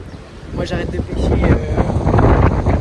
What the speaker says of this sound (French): Beaucoup de vent.